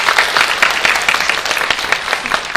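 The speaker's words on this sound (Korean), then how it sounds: "장미경 부장님께 다시 한번 큰 박수 부탁드립니다." Audience at an international forum applauding, a sustained round of clapping with individual claps popping out of the steady wash, loud and close throughout.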